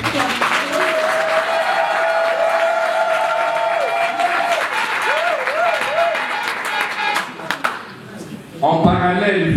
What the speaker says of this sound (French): Il faut quand même applaudir pour ce parcours.